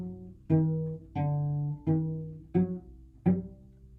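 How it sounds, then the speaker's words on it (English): Cello played as four separate bowed notes stepping through a tetrachord, each tone sustained for about half a second to a second with a clear attack, close and solo with no talking. "What I just played is something called a tetrachord."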